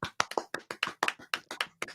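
Hand clapping: a quick, steady run of about a dozen crisp, close claps over two seconds, alone with no talking.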